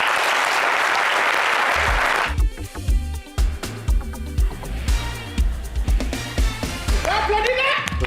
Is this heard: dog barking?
no